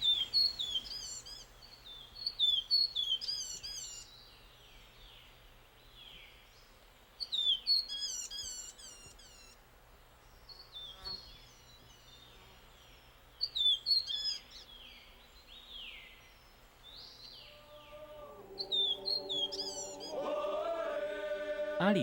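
Morrison's fulvetta calling in a Taiwan forest: bright, high chirping phrases come in repeated bursts every few seconds over a quiet background, with a steadier tonal calling rising near the end.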